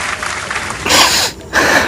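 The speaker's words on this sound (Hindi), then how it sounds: "ऑडियंस, जोरदार ताली बजाएंगे।" Studio audience applause on a game show, a short burst of clapping that swells, dips briefly and returns loudly.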